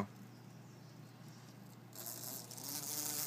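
A trapped bee buzzes faintly and steadily nearby, growing louder and brighter in the last second or so, with no talking.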